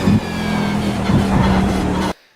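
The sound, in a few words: race car braking hard and turning into a corner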